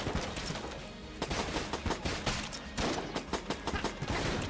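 Rapid gunfire in the video game Enter the Gungeon as the Convict shoots small mushroom enemies, with bursts of quick, snappy shots in uneven volleys at a fairly low level.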